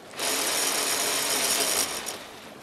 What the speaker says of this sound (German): Mit der Bohrmaschine.